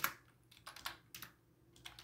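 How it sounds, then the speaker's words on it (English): Code being typed on a computer keyboard, a quiet run of about a dozen separate key clicks at an uneven pace, close and alone. "So the way we do that is just by typing in"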